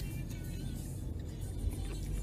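Steady interior road noise from a car being driven, a constant low engine and tyre rumble with no speech.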